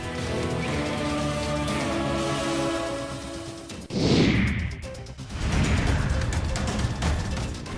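Rain falling during a thunderstorm makes a dense, steady hiss, broken near the middle by a sudden loud whooshing burst before the downpour settles back to a constant rush.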